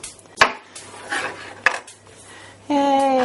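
A knife cutting down through a pumpkin in a kitchen, a few sharp clacks and scraping strokes of the blade, followed by a brief bright tonal ring near the end.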